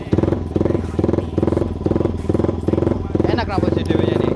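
Yamaha Vixion motorcycle with an aftermarket exhaust, its engine running loud and close in a steady pulsing throb with a brief rev near the end, while people talk over it.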